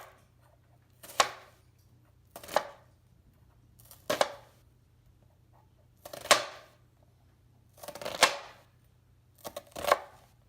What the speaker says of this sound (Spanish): Corta las pimientas.